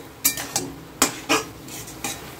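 A metal lid is lifted off a cooking pot of Bengal arum (ghetkochu) leaves and stems, giving several sharp clinks and clatters close by, spread over a couple of seconds.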